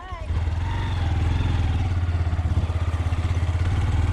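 A 250 cc motorcycle, an Xpro Titan or Hawk 250, runs close by with a steady, throbbing low engine note that pulses slightly as it is ridden, loud and continuous throughout.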